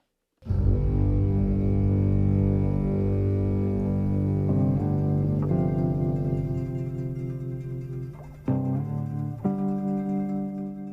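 A sustained, low droning instrumental piece from a film soundtrack, with layered distorted tones, holds steady, then shifts through a few chord changes; no voices.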